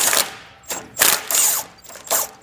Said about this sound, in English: So we'll loosen up this band clamp.